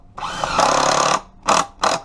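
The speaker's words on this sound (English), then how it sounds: "Then we'll screw in these side braces." Power drill driving 3-inch screws into wood side braces of a homemade weight plate rack, one long buzzing run followed by two short bursts, close and loud.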